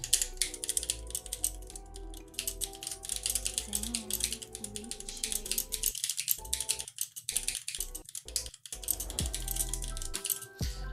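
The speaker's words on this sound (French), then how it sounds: "vous avez pu entendre le bruit du clavier" Rapid clicking keystrokes from an Aukey KM-G12 mechanical gaming keyboard, a steady run of sharp taps with brief pauses, close and fairly quiet.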